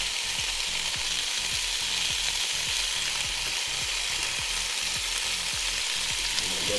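Smoked sausages cook on a Ninja Foodi Grill with a steady, even sizzle and frying hiss, joined by a regular low ticking or clicking pattern running underneath, with no voices.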